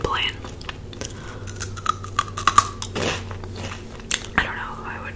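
Someone bites into crunchy vegan Asian snacks close to the mic, giving several sharp crunches and soft chewing clicks, with quiet whispered speech around them.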